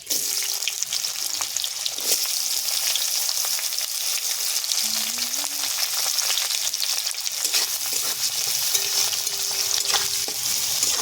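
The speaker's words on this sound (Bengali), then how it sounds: "জিরে, শুকনো লঙ্কা, তেজপাতা ফোড়ন দেব। এবারে দেবো পেঁয়াজ কুচি।" Chopped onion frying in oil over a tempering of cumin, dry chilli and bay leaf for palak chicken curry, a dense, steady sizzle with stirring scrapes and faint tonal squeaks, heard close.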